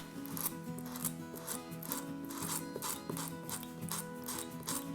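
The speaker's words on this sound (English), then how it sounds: "I'll do a little bit of scratching for the demonstration here" A hand scratching tool scraping across a surface in a steady run of short, raspy strokes, close and moderately loud over a faint background hum, with no talking.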